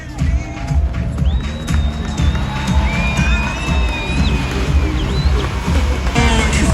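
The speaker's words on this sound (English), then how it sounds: "Give him a round of applause." An outdoor crowd at a German-versus-Japanese car show cheers and claps, with shouts and whoops rising in bursts and long, high whistle-like tones sounding over the steady crowd noise.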